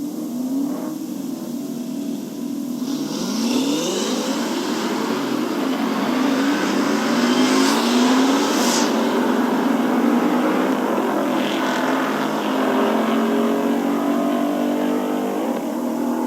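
A 2015 Ford Mustang fitted with a Gen 3 TVS supercharger races at an NMRA drag event, its engine roaring loudly and steadily with rising revs, sustained and close throughout.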